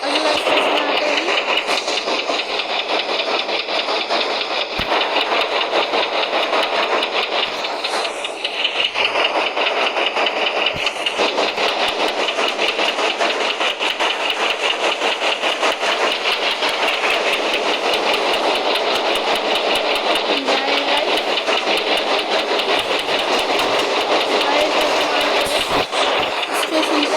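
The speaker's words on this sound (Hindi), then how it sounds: "हम चढ़ चुके हैं अपनी ट्रेन में" Interior of a moving passenger train, a loud continuous engine and rail roar with faint clickety-clack underneath, steady throughout with a brief dip and occasional rattles.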